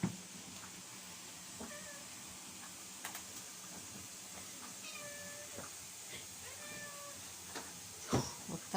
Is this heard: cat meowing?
yes